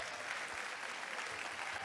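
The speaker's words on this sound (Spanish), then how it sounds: "déle un aplauso fuerte al Señor" Church congregation applauding the Lord during a Spanish-language sermon, a steady continuous wash of clapping hands held at an even, moderate level throughout.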